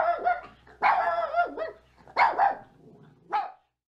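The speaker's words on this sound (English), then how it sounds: "And a dog called Rusty" A farm dog barks in several short bursts, loud and close, with pauses between the yaps and no voices alongside.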